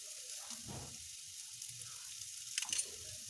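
Green chillies and a little turmeric powder sizzle softly in hot oil for chirer pulao, a faint steady frying hiss with a few brief stirring scrapes near the end.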